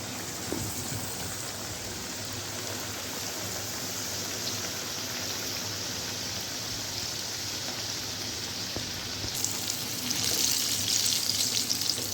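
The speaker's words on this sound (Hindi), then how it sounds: "घी अच्छी तरह से गरम हो गया है। तो अब हम इसमें चिकन डालते हैं" Chicken pieces frying KFC style in hot ghee give a close, continuous sizzling crackle that grows slightly brighter and louder near the end, with no talking.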